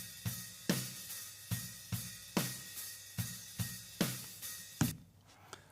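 Drum kit heard through hard-panned overhead mics with boosted cymbals, each steady beat bringing a sharp crash and wash of shimmering cymbal over a lighter kick, then the wash fades to a quiet ring at the end.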